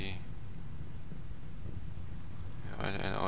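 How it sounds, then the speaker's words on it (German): Rain falling in the video game RimWorld, a faint, steady hiss of rainfall with a brief low rumble near the end. "Ja, jetzt regnet's."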